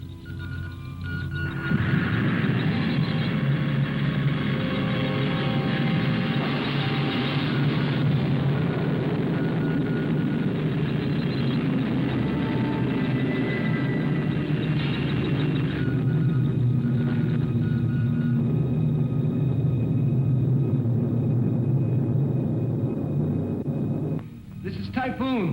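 A rocket engine from a 1959 science-fiction film makes a loud, dense rumbling roar that continues unbroken for about twenty seconds before cutting off abruptly near the end.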